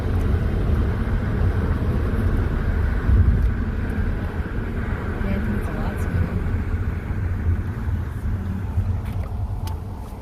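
A 2009 Audi A4 Turbo drives around a town block, its engine and road noise a steady low rumble heard from inside the cabin, swelling slightly partway through, with occasional voices over it.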